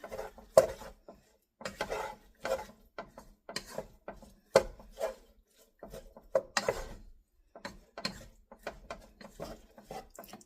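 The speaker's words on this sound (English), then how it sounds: "And get this kind of stirred around." Utensil stirring a sausage dish in a pan, with scraping and clinking strokes in an irregular rhythm, close and moderately quiet.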